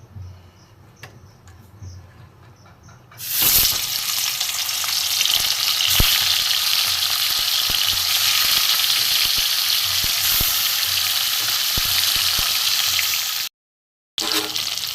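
Pieces of large vola fish dropped into hot oil erupt into a loud, continuous sizzle after a few quiet seconds, with scattered crackles and pops and a brief cut near the end.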